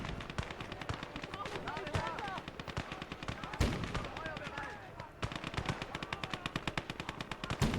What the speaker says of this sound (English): There's the MG there.